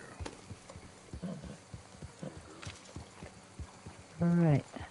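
Horse hooves clip-clop at a steady walking rhythm in Red Dead Redemption 2, close and moderately loud, with a brief whinny-like tonal call near the end.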